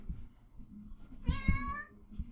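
A cat gives a single clear meow, moderately close and faint, over a low background hum with no speech.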